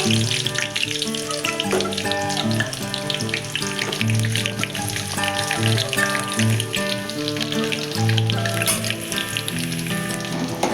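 Onions frying in hot oil for a bitter gourd curry, giving a steady, loud sizzle throughout with tonal background music underneath.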